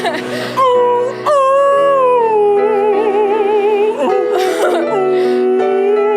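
Close, loud dog howl with sustained wavering notes and vibrato, rising and falling like singing, with brief whimpering breaks between long tones.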